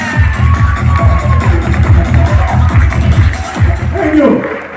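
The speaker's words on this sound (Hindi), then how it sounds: "जोरदार तालियां।" Audience applause at a business leaders' speech event in a five-star hotel hall in Agra. A large crowd claps loudly and steadily, with cheering and crowd murmur mixed in throughout.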